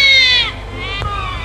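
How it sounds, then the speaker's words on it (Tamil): A baby's crying sound effect in a Tamil stage drama, a brief high wailing cry that breaks off after about half a second, followed by quieter ambient noise. "குழந்தை அழுகும் சத்தம்"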